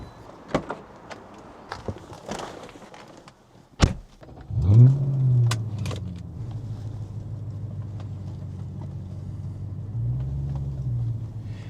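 A BMW 645ci 6 Series car starts up and drives, with a few door and interior clicks and thumps before the engine catches, then a steady low rumble that swells again near the end, heard close from inside.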